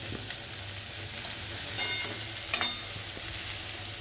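Cumin tempering sizzles steadily in a pan as chopped bottle gourd goes in, a continuous close frying hiss with a few light stirring scrapes on top.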